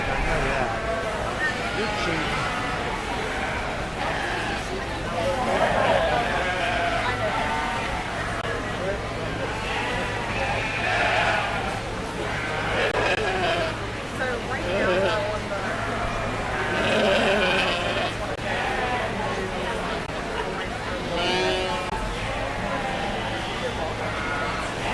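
Ewes bleat at intervals through a 4-H/FFA sheep show ring, with an announcer and crowd chatter running over a steady hum of background noise.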